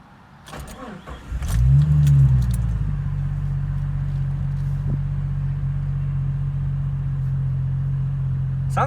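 A Jeep Cherokee XJ with a Borla exhaust cranks and fires up, briefly flaring before settling into a steady, deep, throaty idle that rumbles on close by without any talking.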